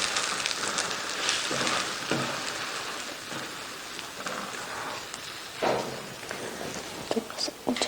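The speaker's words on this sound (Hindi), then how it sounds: "दूसरी साइड भी हमने फ्राई करनी है।" Egg-soaked bread frying on its second side in a pan over a low flame, giving a steady close sizzle and crackle with brief louder pops, while a person talks over it.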